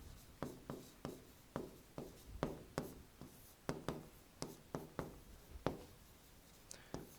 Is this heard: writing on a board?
yes